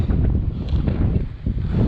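Strong, cold wind gusts outdoors at a rough mountain-bike jump line, loud low rumbling buffets roaring continuously against the microphone.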